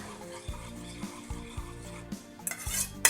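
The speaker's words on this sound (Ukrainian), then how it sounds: "і рівномірно розмішуємо виделкою. Ось майже розтопилося наше вершкове масло." A fork stirs melting butter in a pot, with regular low knocks and scrapes against the metal at an even pace, a quiet sizzle underneath, and brighter clinks toward the end.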